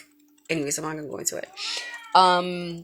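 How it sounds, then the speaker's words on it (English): A house cat meows loudly and close by, drawn-out cries overlapping and following a man's speech indoors. "I'm sorry, that's my cat."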